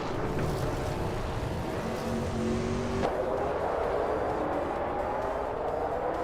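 Several 1982 Pontiac Grand Prix race cars run in a tight pack, engines droning loudly and steadily with rising and falling tones as they pass, with no talk.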